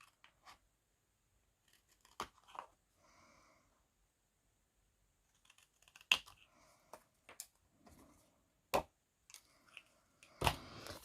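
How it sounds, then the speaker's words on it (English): Scissors cut out a piece of card for a handmade greeting card: sparse, quiet snips and clicks spaced out by silent pauses, close up and isolated. "I'm just going to use my scissors."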